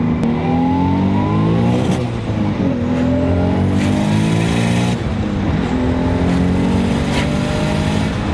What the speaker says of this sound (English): when it flies by you, oh my God, the sound is just incredible